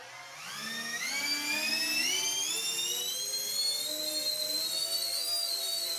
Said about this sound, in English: The jet hovers absolutely precise and uses very less amp.